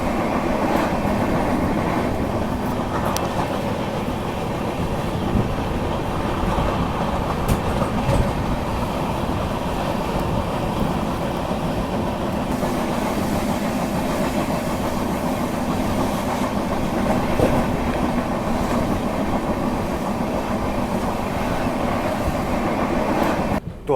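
A train runs on the Konkan railway through Kerala, giving a steady, loud rumble with continuous wheel clatter and rattling carriages that last throughout, with no voices.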